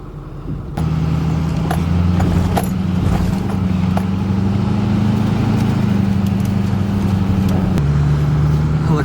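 A car drives in toward a tent site on opening day of the season, its engine starting abruptly and then holding a steady, fairly loud mid-pitched hum close by, with a slight shift near the end.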